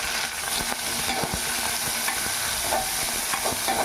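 Brinjal pieces and coriander frying in biryani masala, with a dense continuous sizzle and scattered spoon scrapes and clicks as it is stirred, close by and fairly loud.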